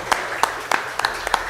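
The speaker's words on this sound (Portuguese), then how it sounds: "Você pode aplaudir ao Senhor em gratidão pela vida delas?" A church congregation claps in thanks, producing a short, loose run of about seven sharp hand claps over a low background murmur.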